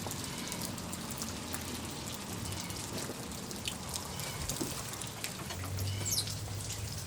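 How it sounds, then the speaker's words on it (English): Steady rain falls outdoors as a soft, even patter that runs through the whole stretch, with a faint low rumble near the end and no talking. "We are outside and it has been raining all day."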